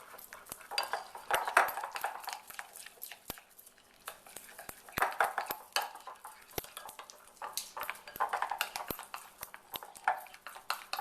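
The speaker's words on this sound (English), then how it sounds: "And then we're going to stir." Spoon stirring melted chocolate mixed with vegetable oil and peppermint extract in a bowl, giving repeated close clinks and scrapes in an irregular rhythm with short pauses, no talking.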